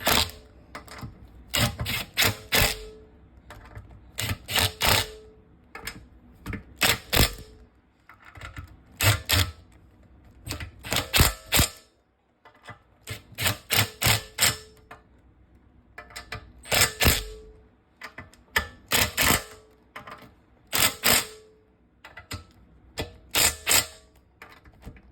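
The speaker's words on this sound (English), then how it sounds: "the impact wrench is doing this clickety-clackety thing, that's just what they do" Impact wrench rattling in repeated short clattering bursts during an overhaul of a Honda GX160 engine, close and sharp, with brief pauses between each burst.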